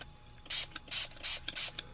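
Tattered Angels Glimmer Mist in Iridescent Gold sprays from a pump bottle onto a canvas in four short, bright hissing spurts in a row, close and fairly loud over a quiet room.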